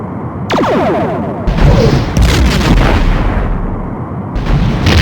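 Torpedo fire and a hit on a ship in Star Trek: The Next Generation – A Final Unity, a loud continuous barrage of booming blasts and rumbling impacts with a faint voice underneath.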